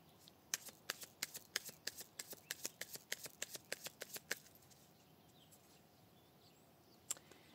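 Tarot cards riffled and cut in a rapid regular run of sharp flicks, close and quiet, about twenty snaps over four seconds, then near silence broken by a single later card snap.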